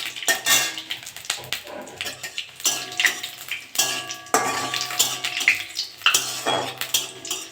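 Panch phoron, dried chilli and bay leaf frying in hot oil in a pan, heard as a run of clinking and scraping utensil strikes against cookware, irregular and close, with a faint sizzle underneath and no talking.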